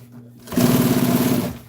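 Sewing machine stitching military jeep seat upholstery, with a steady close mechanical whir that starts abruptly and runs for about a second before stopping.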